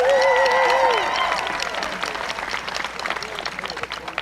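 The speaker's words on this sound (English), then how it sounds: "Give them a huge round of applause." A crowd at a high school football game applauds, with a voice and ringing tones at the start giving way to steady, moderately loud clapping and crowd noise.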